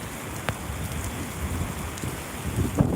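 Rain pours outdoors during a livestream, a dense steady wash of drops with occasional louder splashes and rumbles, no talking.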